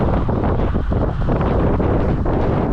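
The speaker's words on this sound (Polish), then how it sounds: "Teraz cały czas pod wiatr. Lodowaty, lodowaty wiatr z północy." Strong, icy north wind roars constantly across the microphone, a dense buffeting rush that never lets up, with no voices.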